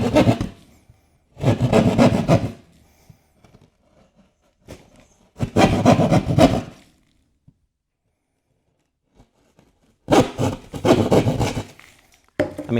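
A Goldblatt folding jab saw cuts into a drywall sample in three bursts of rasping back-and-forth strokes, close and gritty, separated by silent pauses.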